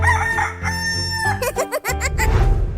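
A cartoon chicken in a 3D animal video game clucks and crows over bright, steady game music, loud and close throughout the short stretch.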